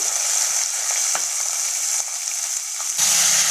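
Shallots, green chili and curry leaves sauteing in a hot pan, giving a steady close sizzle with a few light clicks of stirring and a brief louder hiss near the end.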